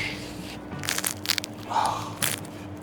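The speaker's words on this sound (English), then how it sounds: "Let's hear the crunch." Bites into the crust of a homemade pizza give several sharp, close crunches in separate bursts, each followed by a brief pause.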